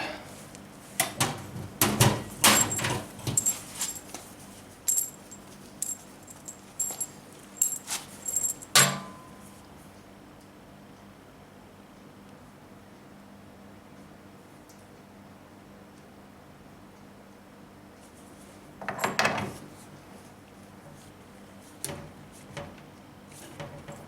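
Metal fittings clink and rattle in clustered bursts as a welding torch is connected to the front of an EverLast PowerPro 205 welder, with sharp close handling clicks, a long quiet pause, then one more brief burst of rattling.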